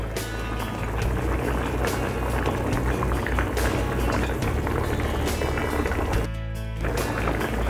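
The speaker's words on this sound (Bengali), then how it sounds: "এখন আলু ডাটা একটু সেদ্ধ করে নিয়ে পরে মাছটা উপরে দিব" Potatoes and vegetable stems boil in a hilsa fish curry broth with tomato, giving a steady, close bubbling and simmering that runs throughout, with a brief dip near the end.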